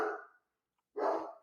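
A pet dog barks twice indoors, loud and close, the two barks separated by a brief silence.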